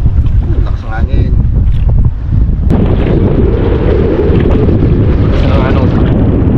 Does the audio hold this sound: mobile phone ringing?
no